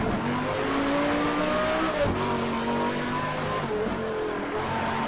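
A modded race car driven in the video game Shift 2 Unleashed, heard from the interior view as a continuous loud engine drone whose pitch climbs and drops with gear changes, plus faint tire noise.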